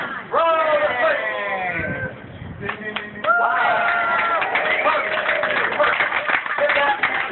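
An outdoor crowd at Griffith Observatory claps for a winter solstice switch, starting with a loud excited shout and then moving into steady, dense applause with scattered voices throughout.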